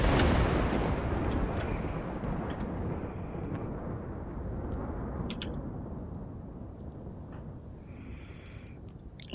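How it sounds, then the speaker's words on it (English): A storm is summoned in the video game Rimworld: a loud rumbling crack of thunder opens, then a long roar slowly fades, with a few faint clicks over the tail. "Let's see if we put down a storm right there."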